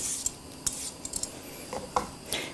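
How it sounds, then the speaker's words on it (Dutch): Knife slicing celery into crescent pieces on a cutting board, a few sharp irregular taps and scrapes spaced across the moment, close and fairly loud with quiet gaps between. "En dan snijden we hem daarna in boogjes."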